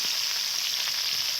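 Onions fry in oil in a kadai, giving a steady, close hiss of sizzling with no voices.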